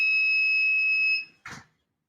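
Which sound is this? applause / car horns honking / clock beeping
clock beeping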